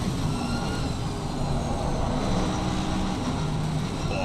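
Race car accelerating in a sim-racing endurance event on the Nordschleife in the rain, a loud continuous droning engine roar with a rising whine, heard close with no voices.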